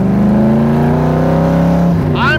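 A 1965 Shelby Cobra with an FE V8 engine revving loud and close, a deep sustained throaty roar that holds steady before dropping off at the end.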